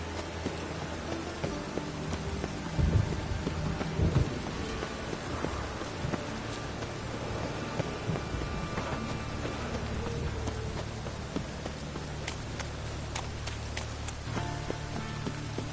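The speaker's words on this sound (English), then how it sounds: "Rain again. Damn mages." Steady rain pours in the video game The Witcher, with low rumbles of thunder breaking through a few times beneath the constant downpour, no talking.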